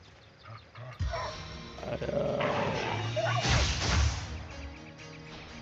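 Dogs brawl in the fantasy role-playing video game Divinity: Original Sin, with game growls, barks and snarls beside crashing, whooshing combat effects that build to a loud, dense burst in the middle.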